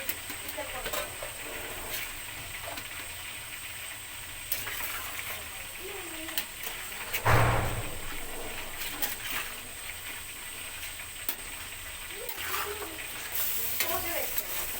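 Mutton karahi with yogurt cooks in a pan, giving a steady, moderately loud sizzle with stirring and scraping throughout, one sharper burst midway, and no one speaking.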